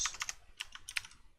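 Keys clack on a computer keyboard in quick, quiet bursts, a few short clusters of taps typed close by in a quiet room.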